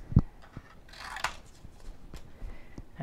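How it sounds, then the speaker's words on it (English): Scissors snip through stamped card pieces for a floral watercolor card, with a few close, crisp cuts and light paper rustling, the clearest snip landing about a second in. "So I'm going to cut all this."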